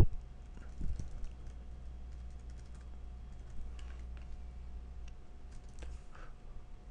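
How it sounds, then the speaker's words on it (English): Quiet, scattered typing on a computer keyboard while programming in Scala, soft key clicks in irregular bursts against a low hum. "That's enough typing."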